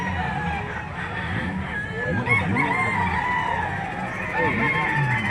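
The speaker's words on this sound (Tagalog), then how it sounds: "Ayan, manok lang." Chickens and roosters at a livestock auction market cluck and crow in overlapping bursts, some near and loud, others farther off, with human voices mixed in among the birds.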